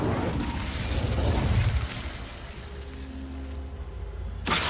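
A fire spell is cast in Hogwarts Legacy, giving a loud whooshing burst with low rumble for about two seconds, then a softer sustained crackling hum and a sharp rise at the very end.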